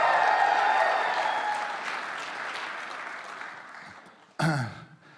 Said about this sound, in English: So let's give him another hand.